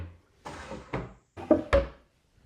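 Wooden drawer on wooden slides in a cabinet, opened and shut about four times in close succession, each stroke a short sliding rumble ending in a soft knock, heard up close with silence between strokes.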